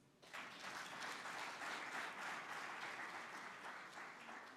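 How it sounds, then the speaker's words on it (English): Applause breaks out at the listing ceremony for MTN Rwandacell on the Rwanda Stock Exchange. Dense clapping starts sharply and stays full and steady throughout. "A round of applause, please."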